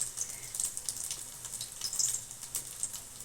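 Chicken kofta balls frying in hot oil, a soft, steady sizzle with faint crackles and pops.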